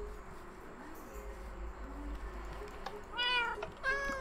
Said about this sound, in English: I have this great cat here,